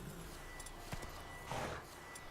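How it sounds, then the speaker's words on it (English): Roach, a horse in the Witcher 3 video game, plods slowly with soft hoof clops, a quiet snort-like burst midway and low ambient game sound beneath. "This is as slow as this horse gets."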